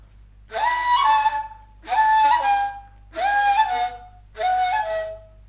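Four breathy ney flute phrases, each opening with a quick squeaky upward flick like a sob before settling into a held airy tone, evenly spaced.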